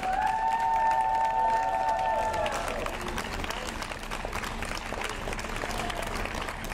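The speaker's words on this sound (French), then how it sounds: "Alors je vous demande aussi d'applaudir très fort Noah Arango pour la Suisse" Audience applause at a French-language show, a dense, steady wash of clapping and crowd noise lasting throughout, with a sustained musical tone fading out in the first half.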